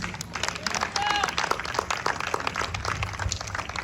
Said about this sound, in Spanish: Denle el aplauso a Cristo Jesús.